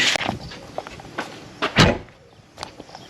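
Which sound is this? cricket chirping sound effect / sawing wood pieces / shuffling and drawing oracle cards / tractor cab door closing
tractor cab door closing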